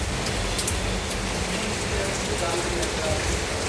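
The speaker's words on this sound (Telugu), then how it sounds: "మా వారు వెళ్ళేసరికి వర్షం స్టార్ట్ అయిపోయింది" Steady rain falling outside a home, a dense, continuous hiss of drops hitting surfaces at an even level throughout, with no one talking.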